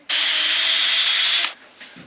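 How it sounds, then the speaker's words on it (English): A power drill whirs loudly and steadily for about a second and a half, boring out a fitting up close, then spins down and stops. "We'll drill it out."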